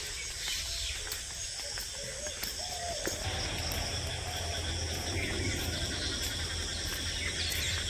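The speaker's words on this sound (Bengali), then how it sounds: "যে পাশে ব্যাঙে ডাকতেছে কিরকম।" Frogs croaking in a Bangladeshi village on a dark morning after a night of rain, a dense steady chorus of calls with insect-like buzzing layered over low rumble throughout.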